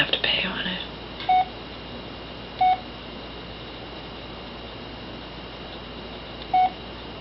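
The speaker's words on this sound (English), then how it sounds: "See, I had to dial voicemail." Telephone keypad tones dialing voicemail: three short, separate beeps spaced a second or more apart over a quiet line hiss, with a brief murmur of voice at the start.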